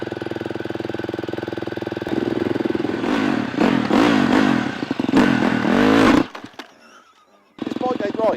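A motocross trainer bike being ridden, its engine droning then rising through loud revving bursts and gear changes, dropping to near quiet before firing up again close by.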